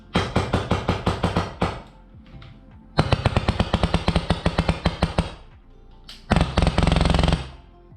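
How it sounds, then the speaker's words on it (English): An MTW airsoft gun test fires in three loud, close bursts of rapid, evenly spaced shots, with short quiet gaps between the bursts and no voices. "So now we know the gun shoots and it doesn't leak"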